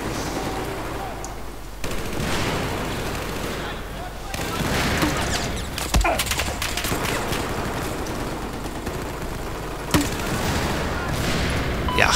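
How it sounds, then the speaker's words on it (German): Constant gunfire from all directions in a Battlefield 4 online match, rapid bursts and cracks with occasional heavier blasts layered into a dense, loud battle din, while someone talks over it. "Von allen Seiten wirst du hier angeschossen."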